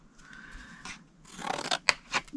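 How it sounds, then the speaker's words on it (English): Scissors snip through scored cardstock paper for a stamped treat box, a few short, crisp cuts that grow louder toward the end, close up and with no talk. "Go to the last score line, cut it to the second score line"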